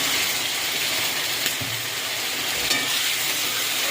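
Masala fries in a pan with a steady, loud hiss and sizzle after a little water goes in from a cup, with a faint stir or clink partway through and no voices.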